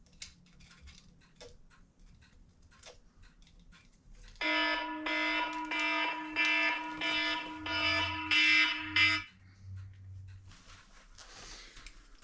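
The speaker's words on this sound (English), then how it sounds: "An alarm for something." Electronic alarm going off indoors, a loud repeated beeping tone pulsing in a steady rhythm for about five seconds before stopping abruptly, with faint ticks and clicks before and after.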